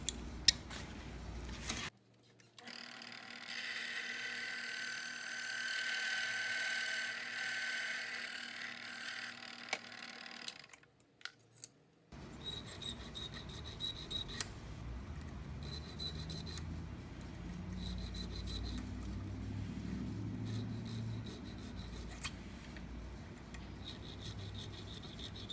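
A file rasping wafer cuts into an antique desk lock barrel key, steady scraping strokes up close, first one long continuous pass, then a pause and a series of shorter repeated strokes.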